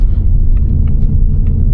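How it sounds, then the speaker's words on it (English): A manual Ford Mustang GT S650 driving slowly through a parking lot, a loud steady low engine rumble heard from inside the car with a few faint clicks. "But I'm glad he can move the car."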